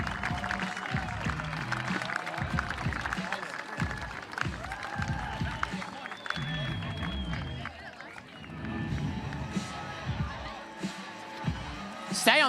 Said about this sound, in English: Make some noise, ladies and gentlemen, for Claudia Pagini, third place.